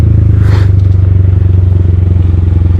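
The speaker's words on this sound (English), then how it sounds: "Then dip it. Catch it with the rear brake. Slow it way the fuck down." Honda Grom motorcycle during a wheelie, a loud, close, steady engine drone with a brief scrape near the start as the rear brake catches it.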